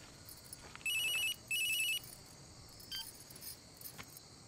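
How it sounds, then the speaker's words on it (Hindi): Close by in a quiet room, a phone rings in two electronic trill bursts, each about a second long, followed by faint clicks and light jangling. "देखो तो फोन है किसका।"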